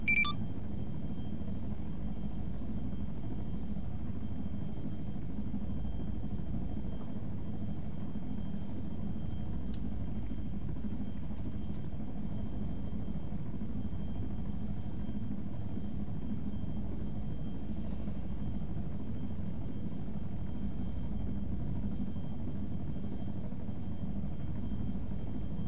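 A helicopter hovers in the video game ARMA 3, its steady low rotor and engine drone holding constant and close throughout, with faint beeps now and then and no speech.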